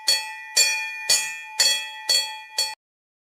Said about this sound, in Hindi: अचानक घर के बाहर बैलों की घंटियां सुनाई दी